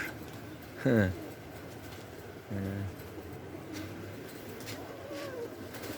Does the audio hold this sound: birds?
yes